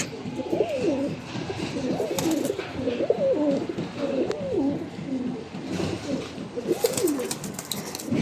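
Giribaz coloring pigeons coo continuously up close, several birds overlapping in rolling, throaty calls with a few faint chirps and background rustle.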